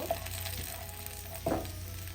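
Pieces of taki fish frying in hot oil, a soft steady sizzle with a couple of brief clinks from a utensil against the pan, close but faint, no talk.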